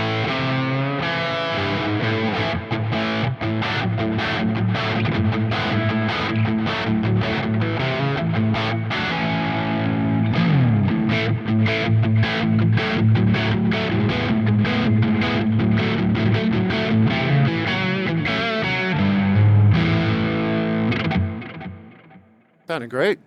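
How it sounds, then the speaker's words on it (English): An electric guitar with Seymour Duncan JB Jazz pickups plays a distorted rock riff, first on the bridge pickup and then on the neck, with loud chugging chords and single-note runs that fade out at the end. "I'm going to just play some simple rock on the bridge, flip it over to the neck just to hear some difference."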